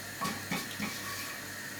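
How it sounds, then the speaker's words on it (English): Soft sizzling and crackling of cumin seeds frying in hot oil for tempering dal, with a few brief pops and clinks, fairly quiet and steady. "Cumin seeds go in, start sizzling"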